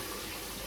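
Water pours into a pot to rinse halved guavas, a brief steady splashing gush at low level.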